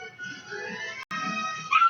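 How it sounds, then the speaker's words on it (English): A dog whimpers in thin, wavering whines, with a short gap and then a sharper yip or bark near the end, fairly close and clear. "Is that your dog?"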